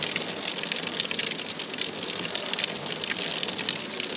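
Water gushes in a steady, continuous stream over an RV slide-out during a test of newly installed slide skis, with no voices.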